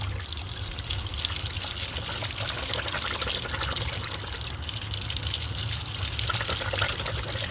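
Water gushes steadily from a sprinkler system pipe, a continuous broadband rushing and splashing that holds an even loudness throughout, with no talking.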